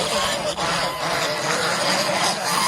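A crowd of Muscovy ducks at a farm fills the air with a dense, continuous chorus of honking and quacking, close and loud, steady throughout with no pauses.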